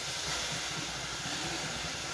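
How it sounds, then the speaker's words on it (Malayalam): Water sprinkled into a hot pan while cooking, producing a soft, continuous steam hiss at low level from start to finish. "കുറച്ച് പച്ചവെള്ളം നമുക്കിങ്ങനെ തെളിച്ചു കൊടുക്കാം"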